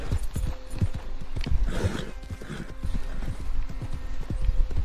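A horse gallops in the Red Dead Online video game on Xbox One, its hooves striking in a fast, steady clip-clop rhythm, close and clear with no talk over it.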